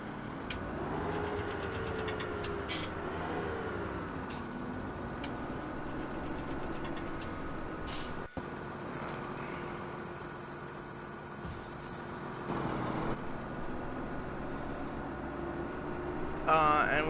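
A tractor fitted with a front snow plow runs in the Farming Simulator game, with a steady low engine drone that continues throughout at moderate level and a few faint clicks on top.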